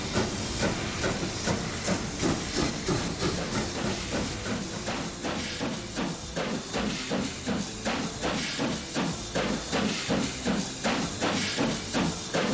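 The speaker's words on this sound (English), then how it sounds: "I was trying to be quiet so you could listen to the brand new steam sounds that he put in" A steam locomotive in the game Transport Fever chuffs in a steady, regular rhythm of hissing bursts with thumping beats, loud and continuous throughout.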